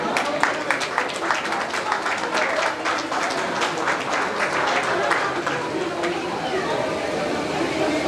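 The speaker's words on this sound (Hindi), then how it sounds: "और तालियों की गड़गड़ाहट" Sustained applause from a crowd at a student award ceremony for CTET results, dense clapping throughout with some voices and chatter mixed in.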